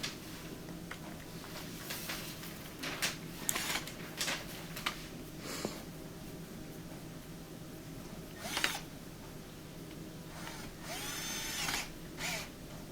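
A power tool drives screws into plastic on an LG washer, giving short whirring bursts at irregular intervals with clicks and handling knocks between them, close by over a quiet background.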